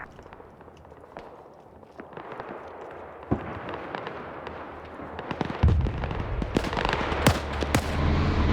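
Tank cannon fire in the WW2 video game IFA, a T-34 trading shots at long range: scattered sharp blasts and cracks that build toward the end into heavier, louder booms over a low rumble.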